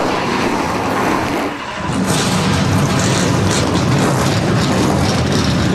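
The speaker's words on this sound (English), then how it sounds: "The engines come to life along the front stretch" Several NASCAR Canadian Tire Series stock car engines fire up together on a race track's front stretch, a loud, dense roar that dips briefly then builds into a sustained rumbling wall of sound.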